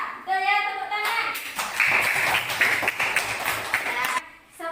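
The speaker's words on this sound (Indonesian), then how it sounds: "Betul ya, tepuk tangan." In an Indonesian primary-school lesson, a class claps together for about three seconds, the crisp rapid claps mixed with children's voices.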